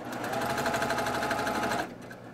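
A sewing machine stitching quilt pieces for a table topper runs in a steady close whir of rapid needle strokes, then stops abruptly near the end.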